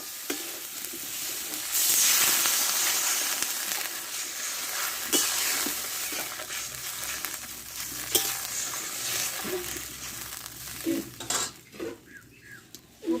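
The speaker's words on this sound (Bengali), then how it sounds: "এবারে আমি জলটা দিয়ে দেবো এই বাটা মাছে একটা ঝাল ঝাল করে নামাবো" Fish curry cooking in a pan as water goes onto taro and spices frying for a bata fish curry, giving a sustained hiss and sizzle with occasional stirring and utensil clinks, close and fairly steady, with no talking.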